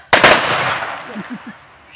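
A single loud gunshot cracks close by at the start and rings off into a long decaying echo, followed by faint shouted voices as the blast fades during a guard firing drill.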